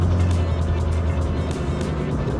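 Nearly century-old Pierce-Arrow 126 vintage car pulling away, a loud, steady low engine rumble with a constant droning hum close by and no talk over it.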